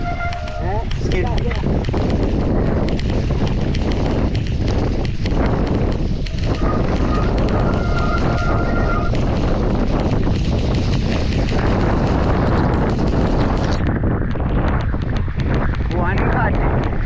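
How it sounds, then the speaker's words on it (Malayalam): Strong storm wind buffets an off-road mountain bike rider's action camera, roaring and rumbling loud and unbroken as gusts batter the microphone, with a voice talking beneath. "കൊടുങ്കാറ്റും മഴയും സുഹൃത്തുക്കളെ."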